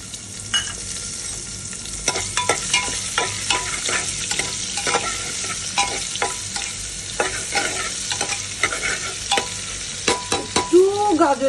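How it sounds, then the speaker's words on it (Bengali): Carrots frying in a pan with bay leaf for polao, a steady sizzle under repeated scraping stirs of a spoon, close and continuous. "গাজরগুলো একটু ফ্রাই করব।"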